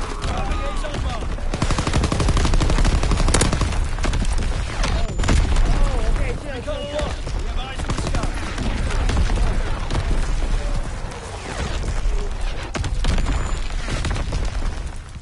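Dense, continuous battlefield noise from a Call of Duty WWII division artillery barrage, with rapid gunfire, booms and explosions rolling over one another at steady loudness, and voices talking over it.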